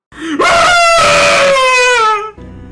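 A dramatic scream as a sound effect in a narrated Spanish ghost story, rising into a loud sustained wail for about two seconds before cutting off.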